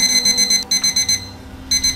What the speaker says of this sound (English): It's the alarm clock.